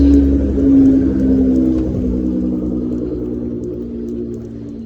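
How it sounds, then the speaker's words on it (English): A car engine hums loudly nearby, swelling in a rev then settling into a steady idle-like drone with a whirring tone. "There's a car that's really making a noise."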